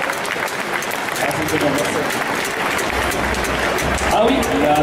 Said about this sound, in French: du coup on peut l'applaudir bien fort